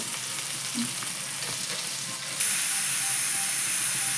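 Onion, garlic and ginger frying in an oiled pan with bay leaves, a dense, steady sizzle close up that grows louder and brighter midway, with faint stirring scrapes and no talk.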